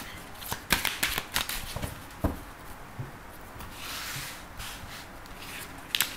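Tarot cards being shuffled by hand for a reading, giving soft papery rubbing and sliding with quick riffling flicks and taps, close and fairly quiet, with no talking.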